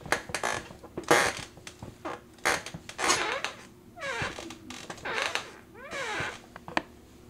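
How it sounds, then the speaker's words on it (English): A cheap big-and-tall office chair creaks and groans repeatedly in irregular bursts, close and fairly loud, with squeaky drawn-out strains between quieter pauses. "As you can hear, the chair is just creaks. It creaks a lot more now"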